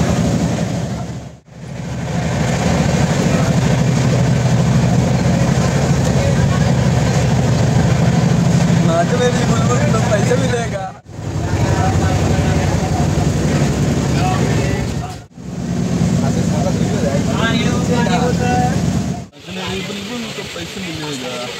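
Inside a moving train, a constant low rumble and rattle of the carriage runs throughout, broken by a few brief cuts, while people talk intermittently over it.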